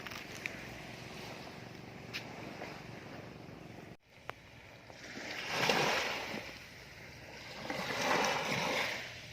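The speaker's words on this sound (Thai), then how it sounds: "มีน้ำจากบนหาดไหลลงทะเลค่ะ" Shallow water runs off a beach near Ao Thong Tanot, Sawi, Chumphon, down into the sea where waves have heaped sand and shells into a ridge across a creek mouth. A steady wash of water swells twice, near and moderately loud, with no voices.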